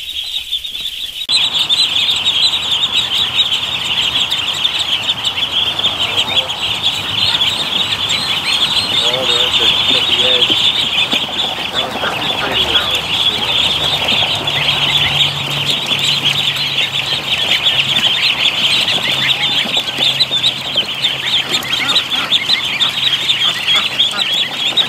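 A crowd of newly hatched ducklings and goslings calls continuously in an incubator, dense overlapping high peeps and honks that stay loud and busy throughout, with a brief quiet moment at the start before the chorus begins.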